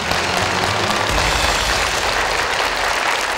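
Studio audience applause on a Vietnamese picture-puzzle game show (Đuổi Hình Bắt Chữ), a steady, dense clapping that fills the whole moment at full loudness with no talk over it.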